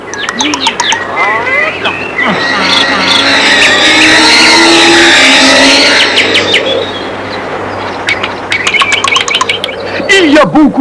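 A bird calls in a French children's story set in a magic forest, giving a loud wavering, cooing cry that rises and swells through the middle. Sharp chirps and a voice come before and after it.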